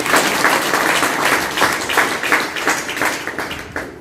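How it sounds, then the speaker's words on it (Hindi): An auditorium audience at a seminar bursts into applause, many hands clapping in a dense, continuous patter that stays loud across the whole stretch and gradually thins toward the end. "एक बार ताली बजाइए, लगा है।"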